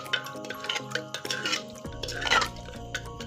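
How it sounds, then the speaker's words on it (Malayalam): Prawns are stirred and turned in a pot, with wet shuffling, soft clinks and scraping from a utensil, brief and close, with no voices. "ഇളക്കി മറിച്ചെടുക്കുകയാണ്"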